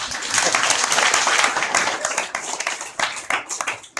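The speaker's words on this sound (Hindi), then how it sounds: "कानपुर के लिए तालियां बजाएंगे।" An audience at a spiritual talk claps loudly together, a dense burst of applause that fades into scattered, sharper individual claps toward the end.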